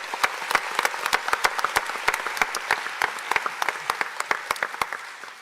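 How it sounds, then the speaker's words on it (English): A conference audience at an opening session applauds with dense, steady clapping of many hands, loud and close, tapering slightly at the end. "Let's give a round of applause."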